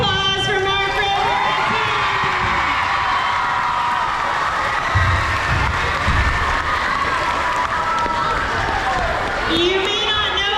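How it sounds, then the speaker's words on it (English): A large crowd of young fans applauds and cheers for Mark Rober, a steady dense wash of clapping with whoops and shouted voices sustained throughout. "one more big round of applause for Mark River"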